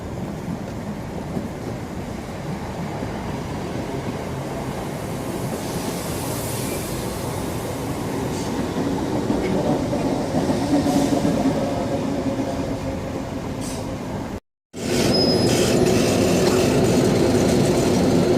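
A Class 321 electric train approaching along a railway line in east London, a broad, steady rumble and rushing roar that builds gradually and stays loud, with a brief gap near the end before resuming.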